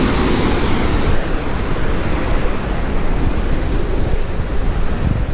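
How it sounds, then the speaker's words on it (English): Red Creek in Dolly Sods rushes with a dense, steady wash of flowing water, loud and continuous with no voices over it. "this is the creek over here that we were camped by last night"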